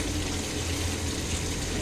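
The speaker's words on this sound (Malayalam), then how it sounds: "വെള്ളം തിളച്ചതിനകത്തോട്ട് നമുക്ക് ഞാനാണ് വെള്ളം ഇട്ട് കളഞ്ഞിട്ടുണ്ടായിരുന്നു അരിയിട്ട് കൊടുക്കാമേ" Rice tipped into a pot of boiling water for biryani, a continuous watery rushing and bubbling wash that stays close and steady throughout, with no speech over it.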